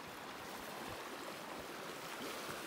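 Mountain creek water rushing steadily on a backcountry valley loop trail near Geraldine Lakes, a close, continuous broadband roar of fast-flowing stream with no talking.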